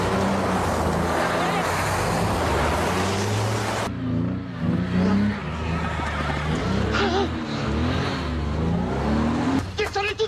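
A car engine revving loudly and steadily, with broadband roar and rising engine tones, while people talk over it in a driveway.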